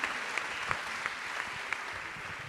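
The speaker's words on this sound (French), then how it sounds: "on peut applaudir" Audience applause at a regional ambassadors' gala in Occitanie: a steady, fairly faint wash of many hands clapping throughout, with a few sharper individual claps standing out.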